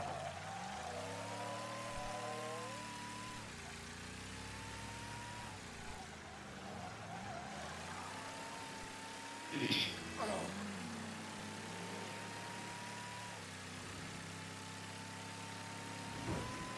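Car engine idling in the Mafia video game, a low steady hum with shifting tonal drones, fairly quiet, with a short sharp clatter about midway.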